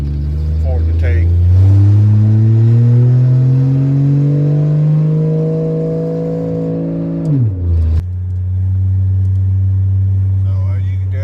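A truck engine revs under throttle, pitch climbing steadily for several seconds before dropping sharply, then settling into a lower steady drone; loud and close throughout.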